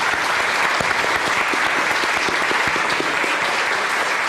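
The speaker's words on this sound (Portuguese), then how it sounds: "Obviamente eu vou pedir uma salva de palmas também." An audience applauding at the close of an author talk in a library, dense and continuous clapping from many hands, loud and steady throughout.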